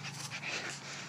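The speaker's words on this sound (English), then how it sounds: "he's my old dog" An old fluffy dog panting on a walk outdoors, steady quick breaths close to the microphone over a soft breezy background.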